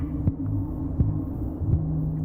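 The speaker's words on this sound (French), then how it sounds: "des lourds battements de cœur de sa mère" A mother kangaroo's heavy heartbeat heard from inside the womb: a deep, muffled throbbing hum with three soft, regular thumps spaced about three-quarters of a second apart.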